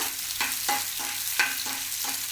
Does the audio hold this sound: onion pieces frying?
yes